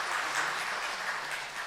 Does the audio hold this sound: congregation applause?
yes